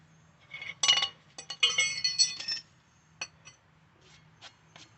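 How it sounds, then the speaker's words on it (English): Rusty brake rotor being popped off a car hub, with a burst of sharp metallic clinks and clanks followed by a few isolated knocks, close and fairly loud with quiet gaps between. "That's popping off a rotor."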